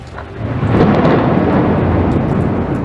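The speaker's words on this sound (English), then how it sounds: "Along with thunder so fierce, it set off car alarms." Thunder from a violent thunderstorm over London rumbles loud and deep, swelling quickly into a sustained rolling roar that holds for a few seconds without speech.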